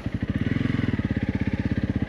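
A Honda CRF 300 Rally engine idles and runs on an off-road trail, a steady rapid low thumping pulse, loud and close, with no talk over it.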